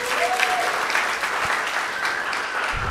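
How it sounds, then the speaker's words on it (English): A stand-up comedy show audience at the Comedy Cube applauds in a dense, steady wash of clapping that fills the room without a break for all three seconds, close and full. "Give yourselves a round of applause"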